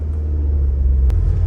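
A Mazda Miata NC sports car driving along, with a steady low engine and road rumble close by and a brief higher hiss near the end.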